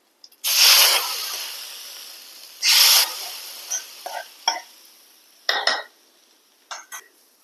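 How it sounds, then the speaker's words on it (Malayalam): Fried onion scraped from a pan into a bitter gourd curry, with two long bursts of hissing steam followed by scattered metallic clinks and scrapes of a utensil against the pot, fairly close. "നമ്മുടെ ഉള്ളി മൂത്തിട്ടുണ്ട് നമുക്കിത് കറിയിലേക്ക് എടുത്ത് വയ്ക്കാം"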